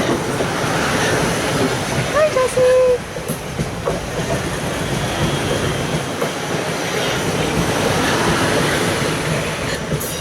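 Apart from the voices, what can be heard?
train passing level crossing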